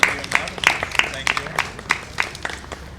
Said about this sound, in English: Give yourselves a round of applause for supporting the house.